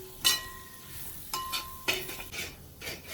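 Kashmiri chilli powder, salt and other spice powders frying in a pan for Kerala-style chilli chicken, with a few sharp stirring scrapes against a low sizzle, close and moderately quiet.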